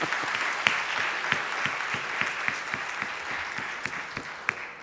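An audience at a law school valedictory function applauds steadily, dense close clapping with sharper individual claps standing out, sustained for several seconds without pause.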